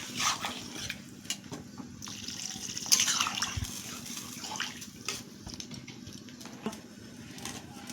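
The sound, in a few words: pouring water onto leafy greens in a pot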